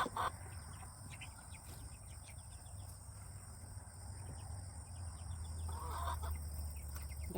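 Soft clucking from a hen comes in short bursts over a steady outdoor hum, with faint insect buzz in the background.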